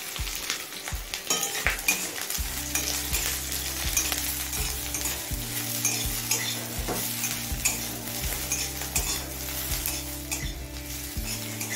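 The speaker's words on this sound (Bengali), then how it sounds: "চিংড়ি মাছের মাথাটা দিয়ে মিনিট 2-3 ভেজে নিলাম।" Shrimp heads fry in a pan with chili, garlic and black cumin, giving a steady, close sizzle with occasional stirring scrapes over faint background music.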